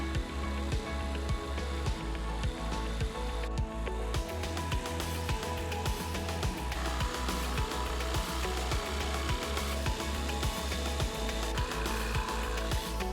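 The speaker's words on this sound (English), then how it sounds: "it's time for a whole lot of jigsaw work" A jigsaw cuts through plywood in a woodworking project, a loud, steady buzzing drone with a fast rhythmic chatter of the blade that runs nonstop and close.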